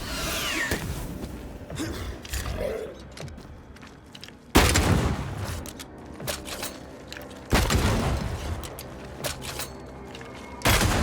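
Gunfire and booming blasts in the action game Banishers: Ghosts of New Eden, heavy impacts landing at intervals over rumbling combat effects and whooshes, loud and close, with no speech.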